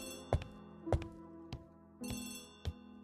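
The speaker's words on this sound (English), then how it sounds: "the phone is ringing" An old-fashioned telephone bell rings in short repeated bursts with a metallic ringing tone, fairly close and alone, in the setting of an Agatha Christie mystery drama.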